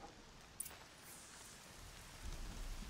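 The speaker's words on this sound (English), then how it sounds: "Man, it got rainy quick." Steady rain falls in the video game Horizon Zero Dawn, a continuous hiss of drops on surfaces with a faint distant rumble, swelling slightly louder near the end, no voices.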